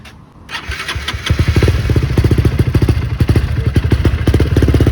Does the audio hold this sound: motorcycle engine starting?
yes